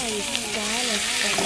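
Keema mince frying in a pan with ginger and coriander while being stirred, a steady close sizzle running throughout with faint scraping of the spoon and a voice humming or speaking lightly underneath.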